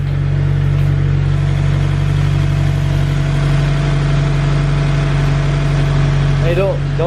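A Scion FR-S engine idles steadily, a low, constant rumble filling the whole stretch with a few faint clicks near the end.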